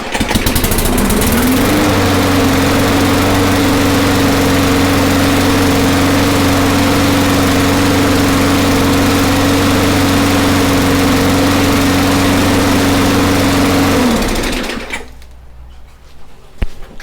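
A Briggs and Stratton flathead small engine runs just after a valve adjustment with a loud, steady, close buzzing drone for about fourteen seconds, then cuts out and winds down into quiet.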